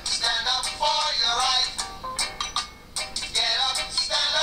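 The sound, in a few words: Song playing from Google Nexus 7 tablet speaker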